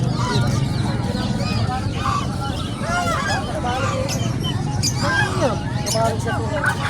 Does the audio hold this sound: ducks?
yes